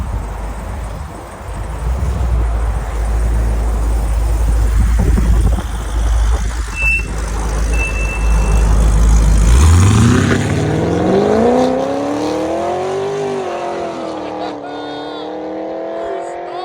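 A loud 6.0L V8 exhaust on a 2016 Chevy Caprice with long tube headers and Borla mufflers rumbles deeply, then revs hard in rising, sweeping pitch climbs before easing back down; a voice is briefly heard.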